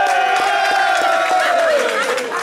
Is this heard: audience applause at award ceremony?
yes